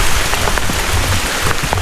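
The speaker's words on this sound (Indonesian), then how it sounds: "dikasih bonus hujan nih guys nih. Mantap, jalur bebatuan plus hujan." Steady rain pattering on a rocky hiking trail up Mount Tampomas, a close, dense hiss of drops hitting stone with scattered louder splats and no voices.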